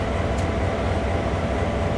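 A US diesel engine train in Train Sim World 4, a steady low rumble and drone with constant rolling noise, close and even for the full two seconds, without speech.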